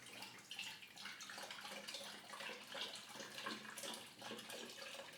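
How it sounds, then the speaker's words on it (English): Cold water is dumped into a container for making iced coffee, a soft continuous pouring and splashing at low level with no voices. "I'm going to cheat a little bit and just dump the water in here."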